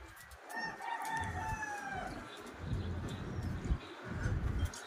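Gamefowl roosters crow in drawn-out calls that overlap one another, close and fairly loud over a background of clucking and yard noise.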